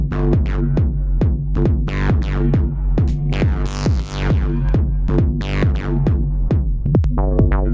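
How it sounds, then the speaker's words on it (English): Distorted synth line through the Dist COLDFIRE plugin with kick-triggered sidechain volume ducking, giving a loud, rhythmic pumping pattern of plucked, sweeping notes that keep dipping and swelling in time. "I'm using the external sidechain option from my DAW to trigger an envelope follower, which is gonna modulate the output of the plugin."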